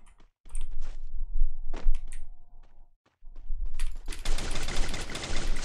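FAMAS rifle fire in the shooting game Free Fire comes in short bursts with dull thumps, then ends in a sustained loud burst of rapid shots.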